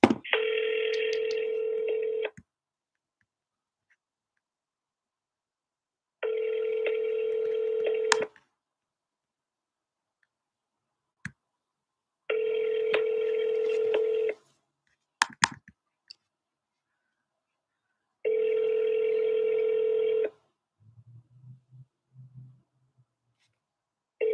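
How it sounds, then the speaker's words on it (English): A telephone call rings out on the line with four long, evenly spaced buzzing ring tones separated by silences, clear and steady, followed by a short low murmur at the end. "Just gonna give him another call now, see if he has given it any more thought."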